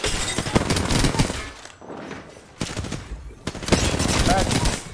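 Rapid automatic gunfire in the battle royale game Apex Legends, bursts of shots in two loud stretches separated by a brief quieter gap, with a player's voice talking over the action.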